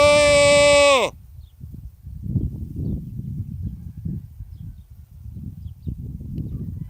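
A goat beyond a field fence gives one loud, close, drawn-out bleat that cuts off after about a second, followed by quieter rustling and low murmuring talk.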